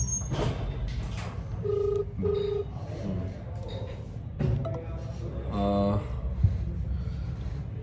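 An outgoing telephone call rings back in repeated short tone bursts, moderately loud over a background of room noise and faint breathy sounds, with no one answering.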